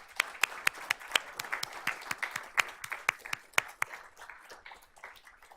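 Audience at a high school board of trustees honors ceremony applauds for several seconds, a steady patter of sharp individual claps in a medium-sized room, moderately loud and fading slightly toward the end.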